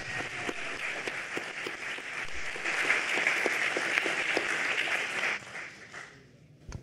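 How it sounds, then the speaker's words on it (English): Audience at a DEF CON security-culture conference panel gives sustained applause, a steady wash of clapping with a few sharper claps, that fades out at the end. "can we keep the applause going and say thank you to this amazing village"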